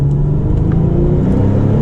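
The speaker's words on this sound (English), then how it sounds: "now, as soon as that car clears, we can do a little acceleration" A Porsche 997 Turbo Convertible engine pulling after a downshift to second gear, a loud, steady, deep rumble heard from inside the car with no talk.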